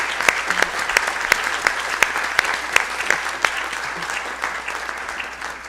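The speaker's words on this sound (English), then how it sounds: "So a warm applause for Peter, folks" Conference audience gives a warm round of applause, dense steady clapping with sharp individual claps standing out, loud and continuous with no talking.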